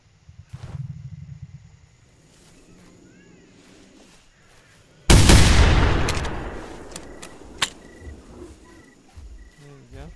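Single loud gunshot in the video game theHunter: Primal, a sudden sharp blast midway followed by a long decaying rumble, set against quiet outdoor ambience with insect-like chirps and rustling.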